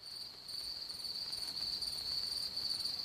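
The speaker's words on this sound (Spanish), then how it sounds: "es un grillo de África, es Oh. un grillo africano" An African cricket chirps in a steady high trill that runs without a break through the whole clip, faint against a light background hiss, with no one speaking.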